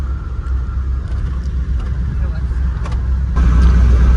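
A pickup truck cruising on the Samruddhi highway from Shirdi toward Nagpur holds a steady low engine drone and road rumble, growing slightly louder near the end, with someone talking over it.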